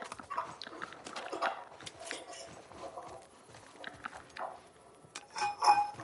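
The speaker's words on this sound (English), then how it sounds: "I hate killing dogs, but I have no choice." Dogs whimper and yelp in a video game alongside hoof-like clip-clop steps, the sounds moderate and intermittent across the stretch, with a brighter burst near the end.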